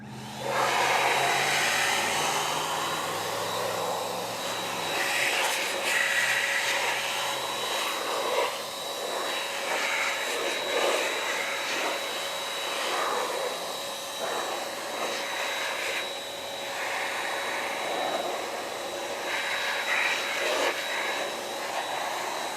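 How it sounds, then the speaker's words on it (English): ProBlow air blower drying a car grille after washing, a loud continuous rushing whoosh of forced air that persists throughout with slight shifts in pitch as the nozzle moves. "just how easy it is to dry it with the ProBlow without having to get all your fingers in a twist"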